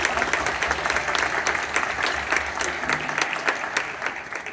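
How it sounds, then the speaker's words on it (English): Enthusiastic applause from a high school jazz band concert audience fills the room, dense clapping sustained evenly throughout with no speech. "can we give a round of applause for them?"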